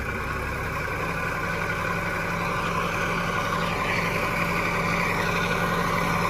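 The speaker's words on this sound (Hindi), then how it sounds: "बहुत दिनों बाद ट्रैक्टर चलाया" A tractor engine runs steadily at close range, giving a continuous mechanical drone that stays even throughout, with no talking.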